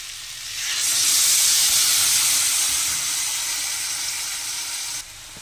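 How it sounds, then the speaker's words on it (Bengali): Water poured into a pan of fried spices and green chillies bursts into a loud hissing sizzle that rises quickly, holds steady for several seconds, then cuts off. "এবার অল্প করে জল দিয়ে দেবো"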